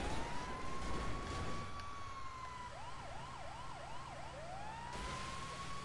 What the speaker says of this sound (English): I know how to do different sirens. I'm doing it right now.